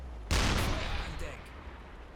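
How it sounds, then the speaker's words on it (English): A single loud boom from a U-boat deck gun firing on a burning British ship in UBOAT, a sharp near blast that decays into a rumbling tail, with faint background speech. "let's get on the deck gun and just finish her off"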